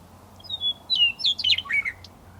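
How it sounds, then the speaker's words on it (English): A small bird chirps outdoors on a snowy day, giving a quick run of sharp, high tweets and trills over about two seconds against quiet background hum. "And of course there were other birds too, like this guy."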